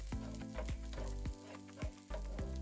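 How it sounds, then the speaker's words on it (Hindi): Garlic, onion and chili frying in a pan, a close, steady sizzle with rhythmic scraping strokes of a spatula across the pan roughly every half second. "लहसुन, प्याज और मिर्च अच्छी तरह से भून के तैयार हो गई है"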